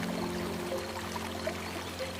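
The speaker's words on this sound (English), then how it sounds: "Watch as the crystal clear water cascades down the rocks, creating a continuous flow of pure white energy." A waterfall of clear water cascades down rocks in a steady, continuous rush, quiet and even throughout, with no voices.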